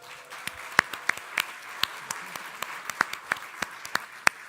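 An awards-ceremony audience gives sparse, distant applause for a winner, with individual claps spaced out at a moderate pace over a low room hum.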